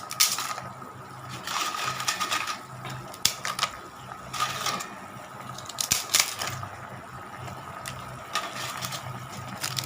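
Appalam (papad) is broken up for kootu, giving several sharp, dry crunching snaps in irregular bursts against a quiet room background.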